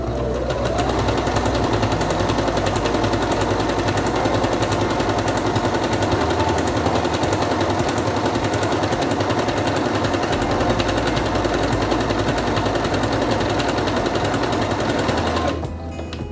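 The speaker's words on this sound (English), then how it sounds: "Put the fabric under the presser foot, lower it, and begin sewing." A Singer Quantum Stylist 9960 sewing machine stitches fabric in one long continuous run, a rapid rattling motor hum at close range that holds steady before stopping near the end.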